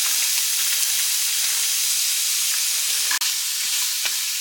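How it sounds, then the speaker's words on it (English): Onion and peppers sizzle steadily in a hot pan, a continuous dense hiss with a few scraping stirs near the end and no talking. "I'm just going to start sauteing this onion up."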